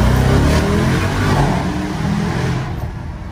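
A 707-horsepower sports car engine roars loudly at full throttle from close range, the revving tone climbing and then easing off toward the end.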